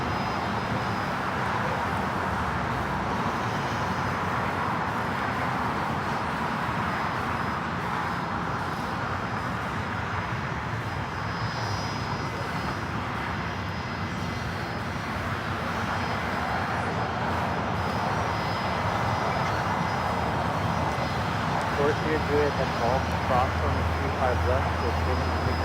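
A Gulfstream G450 business jet taxis at LAX airport, making a continuous, moderately loud engine whine and rumble. A voice talks over it throughout.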